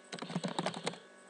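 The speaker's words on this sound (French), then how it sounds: "Donc là je fais CTRL E sur mon clavier." A few quick keystrokes on a computer keyboard entering a shortcut, close and crisp clicks in a short burst, alone in a quiet room.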